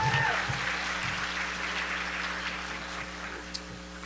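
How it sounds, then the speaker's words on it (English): Audience applause at a Black excellence gala, a steady broad wash of clapping from a large room that gradually thins out, with no talk over it. "A round of applause for Mr. Hodges."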